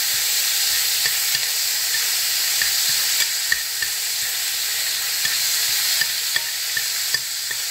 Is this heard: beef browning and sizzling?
yes